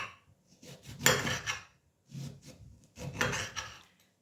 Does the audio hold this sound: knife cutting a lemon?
yes